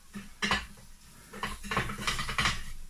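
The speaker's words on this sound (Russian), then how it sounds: "Сейчас мы их выкладываем на тарелочку" Grilled pineapple pieces from a Weber Q 1200 grill are set onto a plate in a few soft, close clinks and scrapes of utensil against dish, with short pauses between them.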